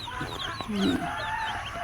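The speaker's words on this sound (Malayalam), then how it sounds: "ഒരുപാട് കോഴികൾ അവിടെ വെച്ചിട്ടുമുണ്ട്" Chickens cluck and call close by, a short burst of farmyard fowl noise over a steady background hum.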